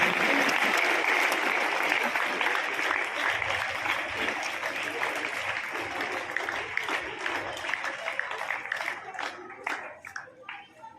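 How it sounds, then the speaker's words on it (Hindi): Loud crowd applause, dense clapping that fills the space and gradually thins out and fades toward the end. "जोरदार तालियों से स्वागत करेंगे।"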